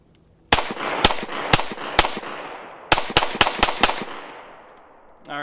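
A Ruger-57 handgun fires nine sharp, loud shots outdoors, four evenly spaced, then a pause and five more in quicker succession, each crack trailing off into a brief echo.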